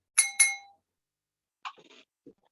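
A bright notification bell sound effect rings twice in quick succession, each ding ringing out briefly. A few faint clinks follow a moment later.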